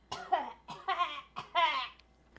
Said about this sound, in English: I'm just overly dramatically coughing.